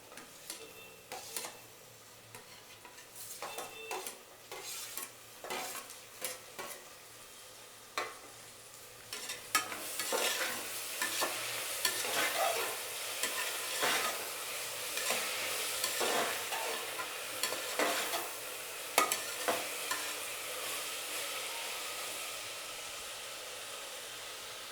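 Tomatoes hit a pan for a vegetable sagu and are stirred as they fry, with sporadic spoon taps at first and then a steady, close sizzle that swells partway through and holds, no voices.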